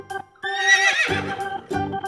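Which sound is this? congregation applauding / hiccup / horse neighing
horse neighing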